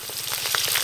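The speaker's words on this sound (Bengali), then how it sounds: "তারপরে আলু ভাজবো।" Potatoes frying in hot oil in a kadai for a mutton curry, a steady dense sizzle and crackle heard close up throughout a brief moment.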